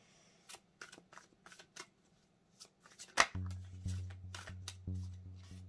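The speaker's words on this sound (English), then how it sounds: "let's shuffle a few times" Tarot cards are shuffled by hand, with quick riffling bursts and soft taps and slides, close up and moderately loud, no talking.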